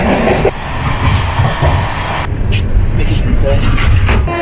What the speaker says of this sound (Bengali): ট্রেনটা কিন্তু এখন অনেকটা স্পিডে চলতেছে একশো তিরিশ ক্রস করছে